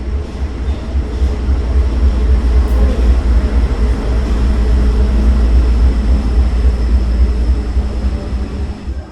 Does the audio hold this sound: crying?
no